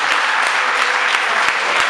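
Guests at a civil wedding ceremony applauding loudly and continuously, a close, thick roar of clapping with a few sharper claps standing out.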